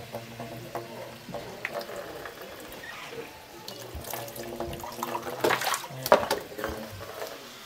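Water poured into a cooking pot while preparing a quick instant dish, a splashing, gurgling pour that grows louder toward the end, with a person talking softly nearby.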